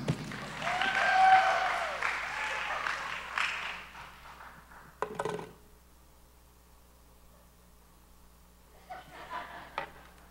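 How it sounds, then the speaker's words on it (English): Church congregation claps for a speaker, the applause swelling loudly at first, then fading within a few seconds, followed by scattered faint claps and small noises in a quiet room. "Y'all clap for me or something."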